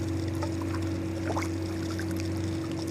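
Water gurgles and trickles into a PVC pipe pushed underwater for a DIY pool skimmer filter, a soft continuous bubbling over a steady pump-like hum, with no voices.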